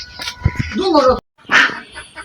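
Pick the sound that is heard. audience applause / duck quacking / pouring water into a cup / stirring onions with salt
duck quacking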